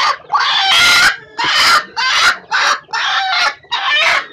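A native-breed hen clucks close by in a series of loud, choppy bursts with short pauses between them.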